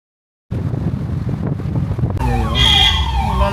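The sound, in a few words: ambulance siren in traffic on ghat road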